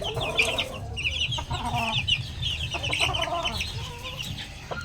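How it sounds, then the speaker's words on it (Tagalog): On a small backyard farm, chickens cluck in busy overlapping bursts close by while young chicks peep in a high pitch throughout. "Ito naman ang ating mga sisiw."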